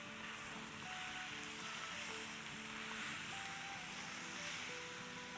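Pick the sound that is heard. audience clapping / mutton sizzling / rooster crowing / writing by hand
mutton sizzling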